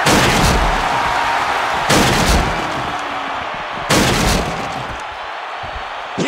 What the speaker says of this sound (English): Oh my God, completely destroyed the barricade.